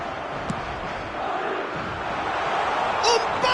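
A crowd in an eFootball video game match roars steadily throughout, a dense continuous cheer with a few sharper whistles and shouts rising near the end.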